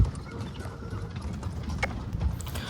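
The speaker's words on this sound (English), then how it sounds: "one such horse carriage will be arranged for you, which will take you to the palace" Hooves of a horse pulling a carriage at the Taj Falaknuma Palace in Hyderabad, India, clip-clop in a steady, moderately close rhythm over a low rumbling background.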